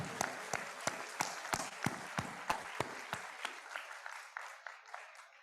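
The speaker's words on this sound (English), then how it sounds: "So big round of applause for our Chancellor" Applause at a university sports festival inaugural ceremony, a run of distinct sharp claps at a steady beat that thins out and fades toward the end, heard with some echo.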